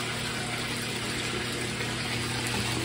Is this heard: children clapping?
no